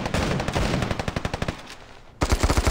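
Rapid automatic gunfire from the mobile shooter game Standoff 2, a dense burst of loud close shots that pauses briefly, then resumes with a few heavier single reports.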